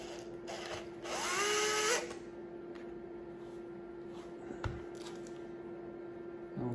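A power screwdriver whirs for about a second while loosening a screw on a Traxxas E-Revo 1/10 RC car, then a quiet room with a steady hum and a few small clicks of handling.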